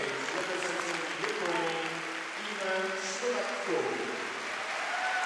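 Arena crowd at a Grand Prix figure skating final in Angers applauds a Ukrainian men's free skater, a steady wash of clapping under a commentator's talk and faint music.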